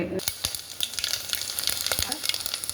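Ginger and garlic crackle and sizzle in hot oil in a pan while cooking a dried prawn, brinjal and okra stew, with sharp popping bursts over a steady frying hiss, close and lively.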